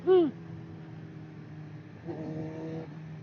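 A Ducati motorcycle sweeps past on a damp road in a short, loud, falling whoosh, then its engine fades to a faint, distant hum.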